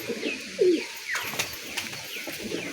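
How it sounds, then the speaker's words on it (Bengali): Several Gola chap pigeons coo close by in a short burst of soft, rolling calls, joined by faint higher chirps and a brief tap. "আপনাদের কিছু গলায় চাপ পায়রা দেখাচ্ছি"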